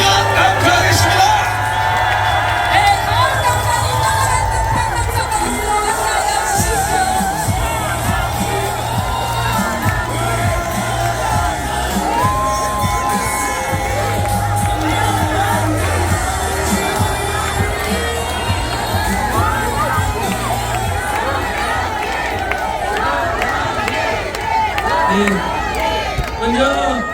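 Large rally crowd at Gwanghwamun in Seoul claps, cheers and whoops continuously, loud and dense throughout, with shouting voices and a low rumbling hum underneath.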